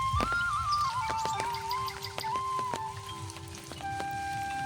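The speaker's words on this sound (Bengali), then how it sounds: "বৃষ্টি হচ্ছে, টানা বৃষ্টি" Steady rain falls on a quiet village street in the late afternoon, a continuous patter with occasional louder drips, while bird chirps ring out above the wash.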